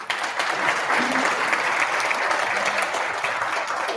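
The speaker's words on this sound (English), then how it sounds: "Please give a round of applause for our sponsors." A conference audience at a rural development gathering claps for the event's sponsors, producing steady, even applause that fills the room throughout with faint voices underneath.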